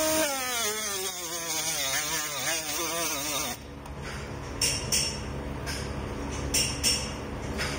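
A Milwaukee M12 die grinder runs at full throttle, a wavering high whine for about three seconds that then drops into a rougher, noisier running sound with a few brief sharp bursts.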